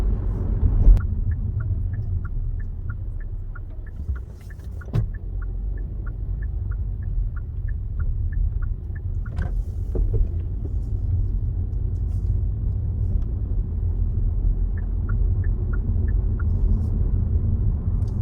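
Kia Seltos (The New Seltos) making a U-turn, with a steady low engine and road rumble throughout, a faint repeating ticking like a turn signal, and a few brief knocks.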